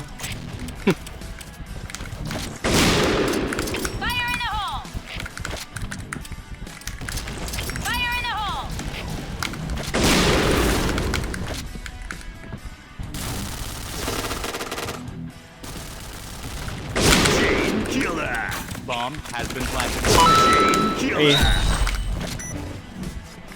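Rapid bursts of video game gunfire in an online team shooter, loud and repeated in clusters throughout, mixed with a voice talking over it.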